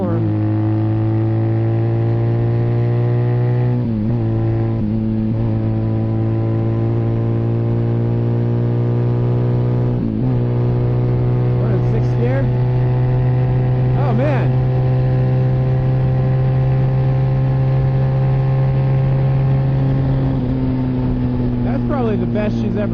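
A 1981 Kawasaki KZ440 motorcycle engine while riding, a warm bike with recently adjusted jetting: a loud, close, steady droning hum with strong harmonics and small shifts in pitch, running continuously throughout.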